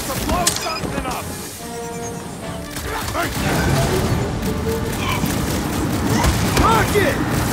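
Video game gunfire with sharp cracks and booming impacts, a few early shots then denser bursts, loud and close, with voices speaking between and under the shots.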